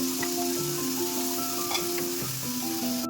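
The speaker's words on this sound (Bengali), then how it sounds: "বেরেস্তা করছি বন্ধুরা, এটার মধ্যে এখন রোস্ট করবো তো বেরেস্তা করে নিচ্ছি।" Onions sizzle steadily in hot oil for birista, crisp frying for a chicken roast, with faint stirring and tonal kitchen hums underneath, loud and continuous with no talk.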